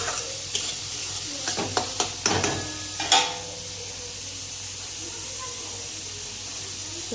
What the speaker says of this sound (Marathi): एक कांदा घेतला तर एक टोमॅटो टाकायचा आणि हे बघा व्यवस्थित त्याला परतून घ्यायचं